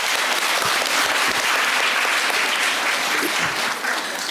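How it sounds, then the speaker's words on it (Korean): An audience at a childcare policy forum gives a short, dense burst of applause, loud and steady throughout with no voices over it. "많은 박수 부탁드리겠습니다"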